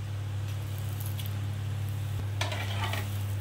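An onion cheese pocket paratha browns and crisps in a hot pan, giving a steady, soft sizzle over a low constant hum, with a brief brighter crackle near the end.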